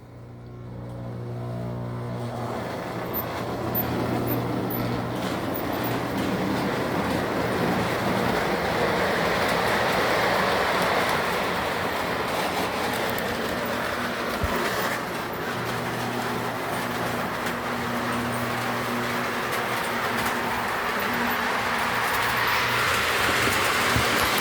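A model train runs steadily along its track, giving a continuous close rumble with a faint whirring hum that builds at the start and holds through to the end, with no horn sounding.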